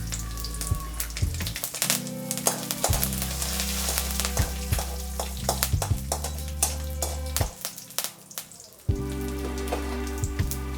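Dried red chillies and curry leaves sizzling loudly in hot oil, a crackling, popping spatter that surges and settles with occasional stirring knocks, close up.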